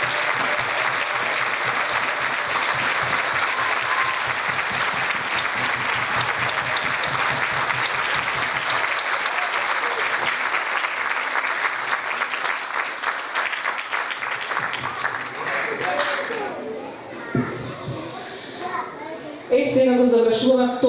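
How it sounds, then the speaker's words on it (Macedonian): Thunderous audience applause fills a New Year ballet studio concert hall as the dancer Sofija is called back on stage, sustained clapping mixed with children's chatter that thins out toward the end. "Ќе ја поканам уште еднаш Софија на сцена да ја поздравиме со еден громогласен аплауз."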